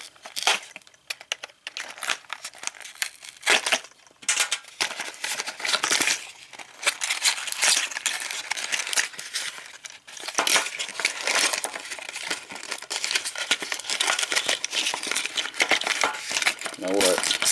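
A Transformers Legacy Deluxe Class Brakedown toy is pulled from paper packaging, with close, busy crinkling, tearing and rustling of paper in irregular bursts throughout.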